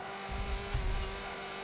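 A Nissan GT-R GT3 race car in Forza Motorsport 7 endurance racing gives a faint, low engine rumble that swells briefly, heard quietly and at a distance.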